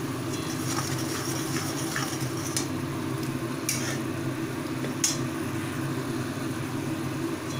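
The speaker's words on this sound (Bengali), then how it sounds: "মশলাটাকে ভালোভাবে কিন্তু আমাকে কষাতে হবে" Masala spices fry and sizzle in a pan for a Bengali achari-style dish, a steady hiss broken by a few sharp spoon scrapes against the pan as the spices are stirred.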